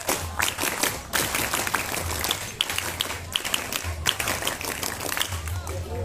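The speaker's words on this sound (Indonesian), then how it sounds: "Tepuk pramuka." A group performs the rhythmic scout clap, hands striking in a patterned sequence of bursts with brief pauses, loud and close, while voices chant along.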